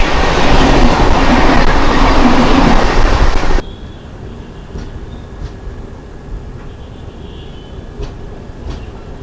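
The Howrah–Indore Shipra Express rolls past Nishadpura station in Madhya Pradesh with a loud, close rush of wheels and carriages that cuts off abruptly, leaving a quieter rumble with faint clicks.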